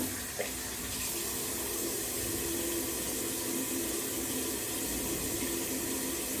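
Water running steadily from a tap into a sink, a constant, fairly quiet hiss and splash that continues unbroken throughout.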